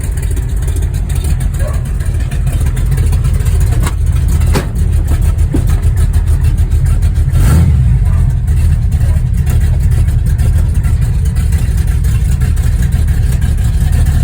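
A Chevrolet Nova driving on the road, its engine producing a steady low rumble that swells with a few revs, close and loud throughout with occasional sharp knocks.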